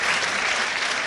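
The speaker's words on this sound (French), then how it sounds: "Entendez la foule qui le salue" A dressage crowd at the Leipzig 2011 World Cup greets Edward Gal entering the arena with loud, continuous applause, a dense wall of clapping from start to finish.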